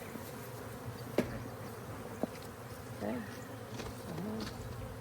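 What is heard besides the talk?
honeybees buzzing around hive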